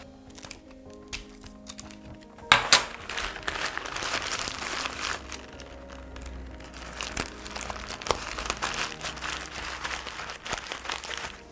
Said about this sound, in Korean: 구겨서 공처럼 만들어 주세요.